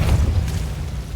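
A Depulso spell cast in a wizarding video game, heard as a short, heavy low boom with a burst-like push that fades quickly, standing alone without speech.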